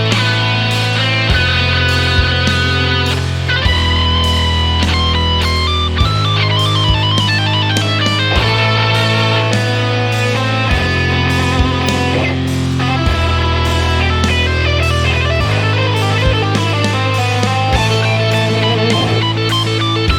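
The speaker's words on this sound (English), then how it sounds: "Rogue, then Serpent and Jupiter playing the rhythm guitars" Loud, dense electric guitars from the Shreddage 3 virtual instrument chug steady rhythm chords with a driving beat throughout, no voices.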